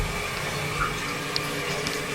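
Toilet tank refilling with water after a running-toilet repair, a continuous close hiss of rushing water with faint gurgles and small drips throughout.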